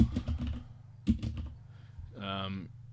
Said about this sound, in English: I've started typing clothing with SK